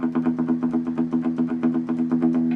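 Rapid, evenly picked palm-muted guitar note with a muted, chunky attack, repeating in a steady quick rhythm, close and clear.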